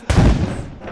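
A single loud, close gunshot in the survival game Rust, a sharp crack that trails off into a booming decay lasting most of a second.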